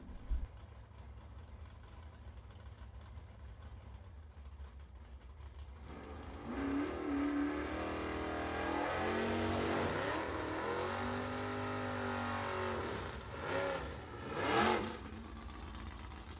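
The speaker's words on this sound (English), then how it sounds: "Henderson and the Never Too Late Plymouth in the left-hand side. 64 Savoy. The 496 cubic inch Mopar under the hood." A 1964 Plymouth Savoy drag car with a 496 cubic inch Mopar engine at a vintage drag race, idling low, then swelling into loud revving sweeps, with a final sharp rev near the end.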